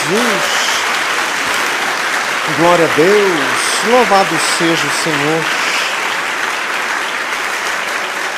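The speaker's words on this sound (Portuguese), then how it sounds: "Dê mais uma salva de palmas a Jesus." A church congregation claps steadily throughout, with a voice calling out praise over the applause near and loud in the middle.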